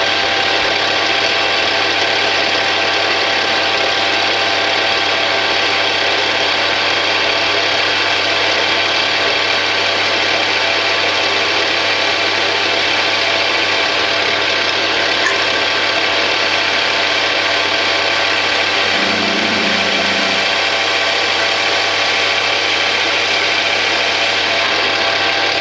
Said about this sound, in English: Now let's see how it behaves when we are drilling it.